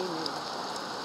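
Monsoon rain patters on a tin roof, a faint, even hiss of drops heard for about a second.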